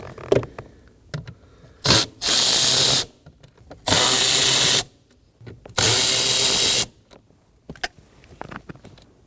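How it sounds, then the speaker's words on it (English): Power driver with a T15 bit backing out three bolts under the glove box of a Nissan Armada, three loud sustained whirring bursts separated by short pauses and small clicks, close up. "Using a T15, we're going to be removing these 3 bolts that are located right underneath it."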